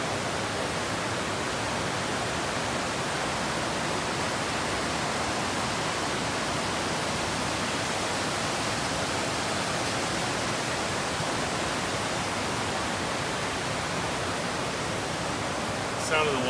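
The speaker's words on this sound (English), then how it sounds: "The sound of the water is really relaxing." A mountain stream flows beside an Appalachian cabin, a steady, dense rush of water that stays even and fairly loud throughout, with no breaks or speech.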